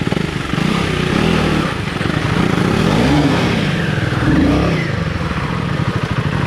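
A vehicle engine revs hard and continuously while labouring up the steep Achalu Betta hill climb, a loud, close, rough drone rising and falling with the throttle.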